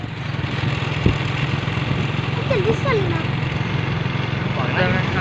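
A motorbike idles and rolls along a village road with a steady engine drone throughout, moderately loud and close, with birds chirping faintly over it and a brief knock near the start.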